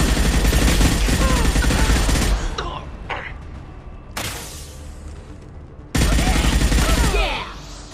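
Loud rapid bursts of automatic gunfire in the Mass Effect 2 video game, sustained volleys broken by short pauses, with a separate sharp burst near the end.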